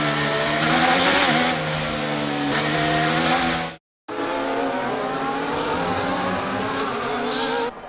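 A Formula 1 car engine in the F1 23 racing game screams at high revs down the main straight, loud and continuous with rising pitch, briefly cutting out mid-way before the roaring engine resumes.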